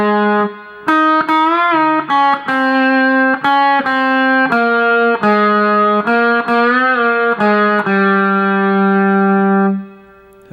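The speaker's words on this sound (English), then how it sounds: "the first melody that you need to learn is going to look and sound like this." An electric guitar plays a song verse melody through effects and light distortion, loud and close, with sustained notes, bends and slides over about ten seconds, ending on a long held note, with no talking.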